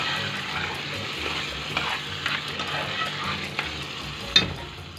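Tomato juice poured over small chopped tomatoes in a hot frying pan and stirred, giving a steady sizzle with scraping spoon strokes and a few sharper clinks, close and alone.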